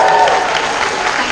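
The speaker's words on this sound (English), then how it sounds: "can I have a cheer from the imaginary people here?" A live audience at a talk show bursts into cheers and applause, a dense, steady wash of clapping and voices lasting barely over a second.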